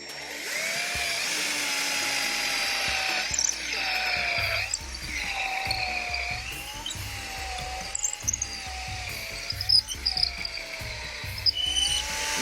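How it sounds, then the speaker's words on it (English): A power drill whirs steadily, its pitch rising and dipping in repeated cycles as it bores a hole into wood, with occasional knocks and clatter. "I don't want this to poke through the other side, so let's drill a hole"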